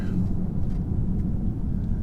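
A 2017 BMW 335d diesel with a ZF 8-speed gearbox and xDrive accelerates, a steady deep engine drone with road rumble, heard from inside the car.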